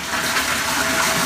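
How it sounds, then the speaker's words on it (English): Artesian well water gushes steadily into bottles at a roadside spring in Minnesota, a loud, continuous rushing splash heard up close with no voices. "found another artesian well. And boy, do these things fill up your bottles fast"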